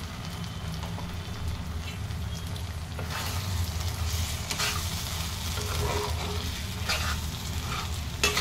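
Cashew, fennel and mustard paste poured into a pan of prawn curry sizzles steadily up close, with soft scraping and stirring sounds rising partway through.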